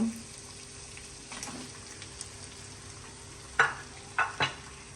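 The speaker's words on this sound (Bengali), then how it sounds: "মশলা কষানো হয়ে গেছে, এখন আমি এর মধ্যে কোয়েল পাখিগুলো দিয়ে দেব।" Whole quail sizzle in a pan of spiced masala, a low steady fry broken by a few sharp scraping and clattering bursts near the end.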